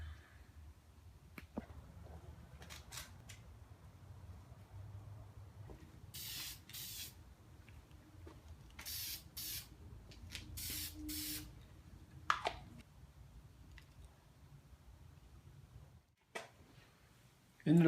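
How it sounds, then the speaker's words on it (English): Several short hissing bursts of lacquer from a spray can onto a turned oak pen, close by, separated by pauses with faint handling noises and quiet background. "spray some lacquer."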